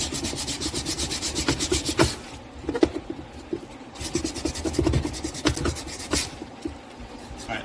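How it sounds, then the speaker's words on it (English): Hand sanding of a wooden Ghostbusters siren housing prop with sandpaper: close, steady back-and-forth rasping strokes in quick rhythm, pausing briefly then resuming, no talking. "some hand sandpaper, just kind of smooth it out that last bit"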